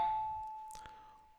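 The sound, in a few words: doorbell ringing in the video game The Shell Part III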